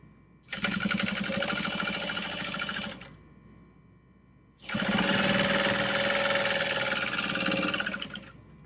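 A sewing machine back-stitches over butterflied seams on a tote bag in two loud, steady bursts of fast rhythmic whirring with a quiet pause between them, close up and with no talking.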